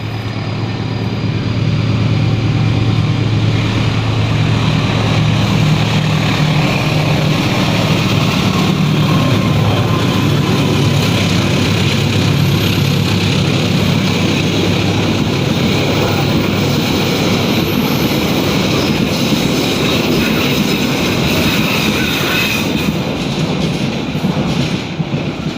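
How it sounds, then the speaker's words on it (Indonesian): A train passes close by near Paniisan in Bogor, a loud, sustained rail rumble with rattling wheels and engine drone that continues steadily throughout. "sebelumnya ada kereta api dulu lewat ya"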